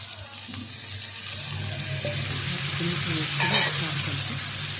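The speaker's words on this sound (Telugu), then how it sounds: "ఇప్పుడు ముందుగా ఉడికి ఉడికించి పెట్టుకుని చికెన్ ముక్కలు యాడ్ చేసుకున్నాను" Chicken pieces frying and being stirred in a pan for gongura chicken curry, a steady close sizzle with scraping stir sounds, no talking.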